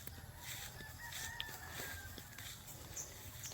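Chickens clucking and calling faintly in a noisy outdoor setting, with a thin drawn-out crow-like tone over steady low background rumble and no talking.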